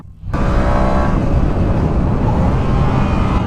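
A Yamaha MT-07 motorcycle engine accelerates on a test ride along a winding road. It comes in abruptly as a loud, steady, rising roar that holds close for several seconds with no talk.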